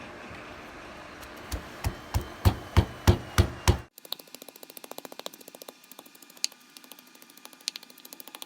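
Eggplant pounded in a mortar, a run of about eight loud, evenly spaced heavy thuds, then a quicker series of lighter, sharper knocks, near and clear with no talk.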